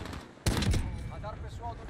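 A short burst of rapid gunfire in a shooter video game, several quick loud shots in a cluster, followed by quieter game sounds and faint voices.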